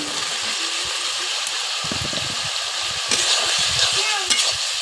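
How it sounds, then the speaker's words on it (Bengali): Potatoes and eggplant are stirred into a pan of frying khalisha fish for Bengali chorchori, a steady loud sizzle running throughout with scraping stirs and occasional clinks close by. "আলু বেগুনগুলোকে এভাবে দিয়ে আমি ভালোভাবে নাড়াচাড়া করে মিশিয়ে নেব।"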